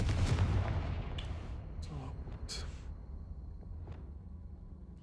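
A Confringo blasting spell in the Hogwarts video game bursts with a loud explosive boom, followed by crackling debris and sharp impacts that fade over a few seconds.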